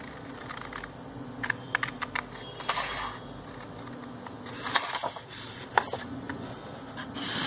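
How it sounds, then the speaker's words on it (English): Scissors cutting a paper rectangle for a DIY Easter bunny gift bag, with soft, irregular snips and rustling crinkles of paper, quiet and close, with no talking. "So now I'll just cut it out."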